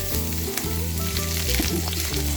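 Onions frying in a pan, a loud, close, continuous sizzle and crackle that stays dense throughout, with occasional stirring and no voices over it.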